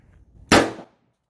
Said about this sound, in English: Fire the warning shot now.